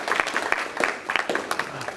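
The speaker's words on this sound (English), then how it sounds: "please give them a round of applause" Applause from an audience at a school family summit, a short burst of scattered, fairly light clapping from a room full of people.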